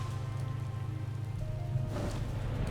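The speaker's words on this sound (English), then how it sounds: "I actually like the rain at the moment." Rain falls steadily in Final Fantasy XIV as a soft, constant patter layered over low game music and ambient hum, with no talk.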